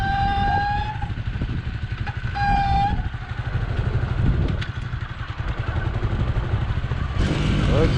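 A motorcycle engine labours up a steep slope, a steady loud drone with clattering and a few higher whining tones rising and falling throughout.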